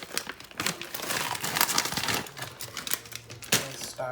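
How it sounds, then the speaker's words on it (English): A 12-ounce plastic bag of vegetables crinkles and rustles continuously at close range while being emptied into a chicken pot pie, with uneven bursts of crackling and handling noise. "Adding the vegetables, not sure if I'm gonna do the whole bag or what."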